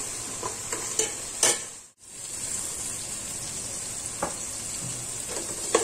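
Ginger-garlic paste frying in a pan for pav bhaji, a steady broadband sizzle with scraping stirs recurring throughout and one brief dropout midway.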